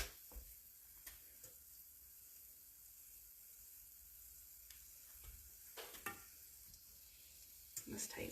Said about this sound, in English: Can you hear it sizzling at all?